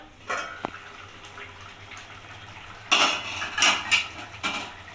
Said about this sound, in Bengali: এবার ঢাকাটা খুলে দেখে নেবো